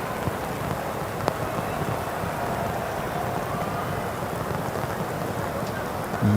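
Heavy rain pours onto a football pitch during a pre-season friendly between FC Tokyo and Borussia Dortmund, a dense, constant hiss with a faint crackle or two, no voices.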